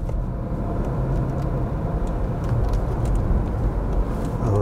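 Cars pass on a busy road, making a continuous near rumble of traffic with no break and no voices.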